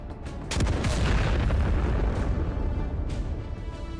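Ammunition inside a burning T-72 tank cooks off after a mine strike, making a sustained loud roaring explosion with rapid crackling bursts and repeated sharp pops layered over a deep rumble.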